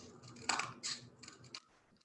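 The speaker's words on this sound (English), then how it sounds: "Now I'm going to cut those out" Scissors snip through paper while cutting out ear stencils for an animal marionette, a few close, quiet cuts in quick succession over about two seconds.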